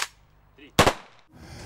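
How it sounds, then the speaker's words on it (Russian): A rifle volley salute at a military reburial ceremony: a sharp gunshot crack opens, then a louder single report rings out with a short decaying echo, outdoors, with faint background murmur afterward. "Капсулу с землей из села Верхнесадовое заложили в сопровождении салюта тремя ружейными залпами"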